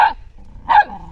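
A dog gives two sharp, loud barks, separated by a short pause, close to the microphone, with no talk.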